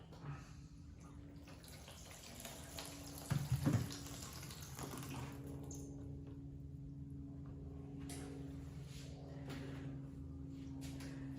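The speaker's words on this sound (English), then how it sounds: "I'm gonna add water to this." Water is poured into a plastic seed starting tray, a soft, steady trickle with a brief louder splash partway through, set over a low indoor hum with no talking.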